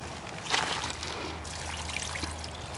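Stagnant pond water pours and trickles steadily at close range onto compost, a soft continuous splashing with a brief louder gush near the start.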